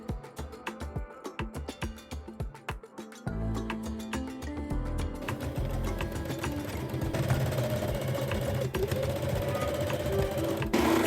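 An overlocker or sewing machine stitches seams on a Bali kimono jacket, starting with short stop-start bursts of needle clatter and then settling into a steady, louder continuous run, fairly close, with no talk.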